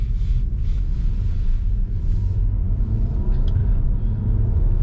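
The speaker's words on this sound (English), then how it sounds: "Under the bonnet we have a 2-litre 4-cylinder turbocharged engine, which puts out about 260 horsepower and 370 newton meters of torque" A new Audi Q5 with a 2-litre turbocharged four-cylinder engine driving on the road, heard from inside as a steady low rumble of engine and road noise with faint soft hisses above it.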